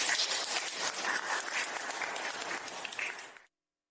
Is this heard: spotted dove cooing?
no